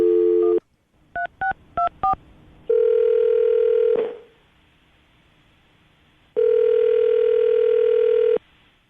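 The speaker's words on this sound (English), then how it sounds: "I'm going to dial the phone number" Touch-tone telephone dialing: a quick run of DTMF key beeps, then a steady ringback tone that cuts off and returns for a second long ring, clear and close with no talking.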